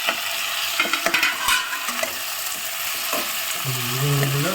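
Chopped tomatoes sizzle and crackle steadily in a hot pan, with a few scraping stirs and a faint voice-like tone near the end.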